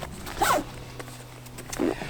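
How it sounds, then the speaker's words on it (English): Large size 8 or 9 YKK zipper pulled along a bag pocket, two quick raspy zipping strokes separated by a pause, close and clear. "with the main pocket zippers, these are big size 8 or 9 YKK zippers"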